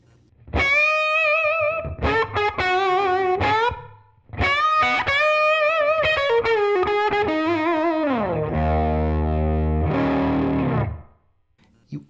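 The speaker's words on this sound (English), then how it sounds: "I could also do things like change the time of the reverb." An electric guitar played through a TONEX pedal plays distorted, effect-laden notes and chords that ring out and trail off with a lingering wash of reverb, pausing briefly between phrases.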